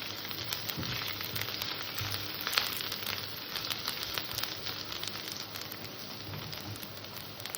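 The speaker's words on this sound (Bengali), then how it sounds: "মশলাটা দিয়ে একটু নাড়াচাড়া করে নিলাম" Ground turmeric, cumin and coriander fry in a pan for a fish and potato curry, giving a soft, continuous crackling sizzle. The sound is fairly faint, with light stirring and no voices.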